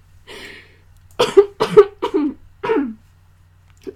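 A sick person coughs repeatedly, several harsh close bursts in quick succession with a faint throat-clearing sound before them, loud against a quiet room.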